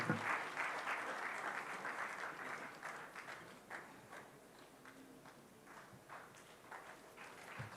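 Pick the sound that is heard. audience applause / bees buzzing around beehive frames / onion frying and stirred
audience applause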